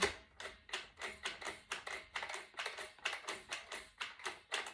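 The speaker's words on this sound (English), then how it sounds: "The springs, the noise of the springs going up and down." Quick, regular metallic clicking and rattling of car seat adapter springs moving up and down, about three or four hits per second, fairly close and steady with no talking.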